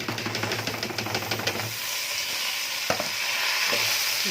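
Rice stirred into golden fried vermicelli in a pot for Egyptian koshari makes rhythmic scraping and clinking over a steady sizzle for about two seconds, then a softer, hissing simmer with a few knocks.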